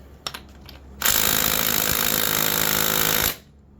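An impact gun with a socket hammers a bolt on a VW Golf GTI MK6 engine, a few short taps then one loud, sustained rattling burst for about two seconds that stops abruptly.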